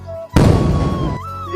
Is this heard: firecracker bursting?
yes